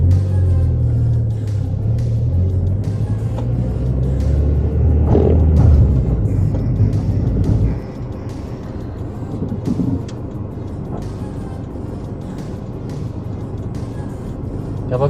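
A Honda Civic with a manual transmission rumbles along on a test drive, its steady low engine and road noise louder at first, then dropping to a quieter drone partway through.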